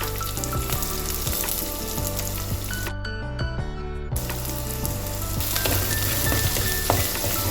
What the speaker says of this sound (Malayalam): ഇനി നമുക്ക് സവാള ഇട്ട് കൊടുക്കാം.